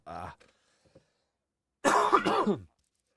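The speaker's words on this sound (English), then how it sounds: "forgive the coughing" A brief throat sound, then after a pause a harsh, close cough fit lasting under a second, with quiet in between.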